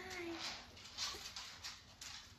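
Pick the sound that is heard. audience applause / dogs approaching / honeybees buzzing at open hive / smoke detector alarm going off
dogs approaching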